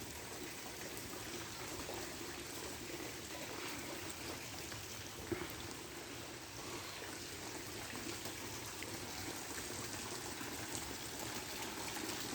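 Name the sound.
rain falling outside a poultry farm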